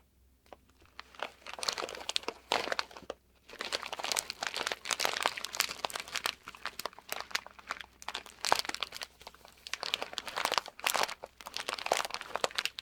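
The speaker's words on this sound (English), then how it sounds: "Now this is a plastic bag filled with" Plastic crinkles and crunches in bursts as a plastic bag filled with corn kernels is squeezed and handled up close, with brief pauses between handfuls.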